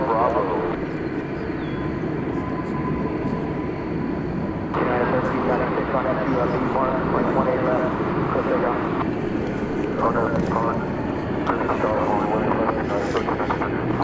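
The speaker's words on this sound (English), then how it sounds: "Volaris flight 1802 from Guadalajara, an Airbus A320." A Volaris Airbus A320 airliner lands at DFW Airport, its engines giving a steady, continuous roar throughout, with people talking over the aircraft noise.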